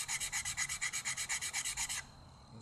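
A Carolina Assassin turkey pot call worked with an aluminum rod striker, giving a quick, even run of about fourteen bright, scratchy yelps, close and clear, then stopping abruptly into quiet.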